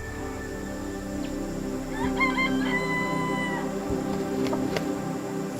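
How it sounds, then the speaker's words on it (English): Red junglefowl crowing outdoors in a Singapore park, a clear cock-a-doodle-doo rising over steady ambient background noise, with a second fainter call following. "Those birds over there, they're the jungle fowl."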